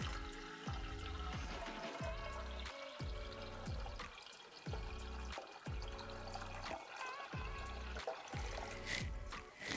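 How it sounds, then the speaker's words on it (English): Cold tap water pours into a pot holding a single layer of eggs, a steady close splashing stream that rises and stops in repeated short bursts, with a faint clink near the end. "fill it with cold water until the water is about 1 inch above the eggs"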